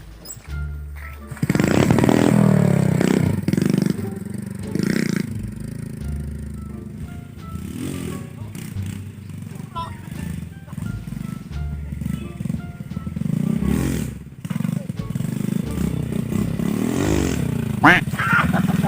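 A motorcycle engine revving loudly and roughly, its growl rising and falling over many seconds with gritty surges, heard close alongside scattered casual voices talking.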